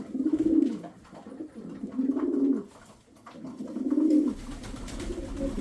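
Pigeons coo on a snowy terrace on a winter morning, with three rolling, moderately loud bouts of low cooing separated by short pauses and no talk.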